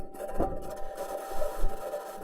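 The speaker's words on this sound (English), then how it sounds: "This is the sound of the Perseverance rover driving on its metal wheels." Perseverance rover rolling on its metal wheels across the Martian surface, a continuous low rumbling grind with irregular scraping crunches and a few louder thumps, steady and close without any voices.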